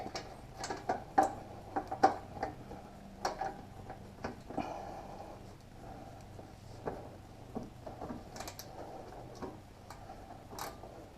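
Socket ratchet working loose exhaust bolts on a Cobra Streetrod Slashdowns exhaust system, producing a quick series of sharp, faint clicks in uneven bursts over quiet background noise, with brief pauses between runs.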